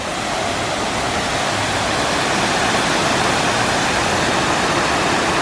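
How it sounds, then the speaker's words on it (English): EPCOT's reverse waterfall, where water jets throw water upward instead of letting it fall, makes a steady, loud, close rush of splashing water that holds unbroken throughout with no voices. "It's basically just water jets throwing the water up rather than it going down."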